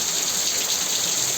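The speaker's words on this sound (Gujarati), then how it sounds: "વરસાદ ચાલુ છે અત્યારે" Rain falls steadily outside near a street food cart, a continuous even hiss of drops on surfaces, fairly loud and unbroken with no voices.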